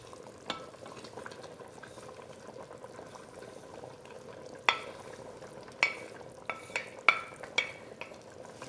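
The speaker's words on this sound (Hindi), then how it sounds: "अब इसके अंदर हम पालक डालेंगे" Spinach goes into a pan of frying lamb masala with a low steady sizzle, stirred with several sharp clinks and scrapes of a spoon against the pan.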